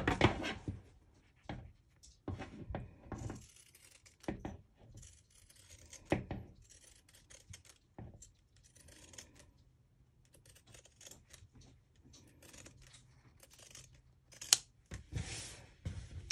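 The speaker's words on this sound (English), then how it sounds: "Now I'm going to go pink it with my pinking shears." Pinking shears snip through fabric while boxers are being sewn, a close series of crisp, irregular cuts with short pauses between bursts and no talking.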